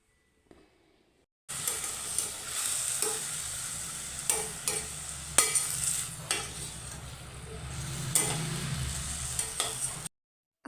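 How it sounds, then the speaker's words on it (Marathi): Soaked chana dal sizzling in a hot pan while a spoon stirs and scrapes it. Steady frying hiss runs throughout, with repeated scraping strokes; no one speaks. "तर आता हे छान असं आपण मिक्स करून घेऊया आणि 1 ते 2 मिनिटांसाठी व्यवस्थित असं परतवून घेऊया"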